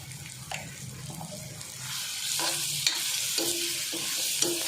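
Potato with turmeric and garam masala stir-fried in a pan, a soft sizzle under repeated scraping and tapping of a spatula, with a hiss like running water building partway through.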